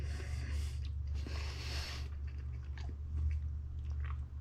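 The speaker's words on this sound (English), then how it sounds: "I'm still chewing." Someone chews fish caught for dinner, with soft close-up wet mouth sounds and brief bites over a low steady hum, no talking.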